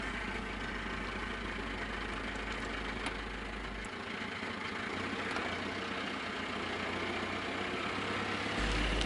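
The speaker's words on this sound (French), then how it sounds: "On utilise le tracteur pour dispatcher des tas de grignons dans l'oliveraie" Tractor idling in an olive grove while it spreads heaps of olive pomace, a constant low engine rumble, fairly distant and even, with no one speaking.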